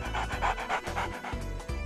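A human voice imitates a dog panting, with about seven quick, rhythmic, breathy huffs close to the microphone during a Trauma Center: New Blood play session.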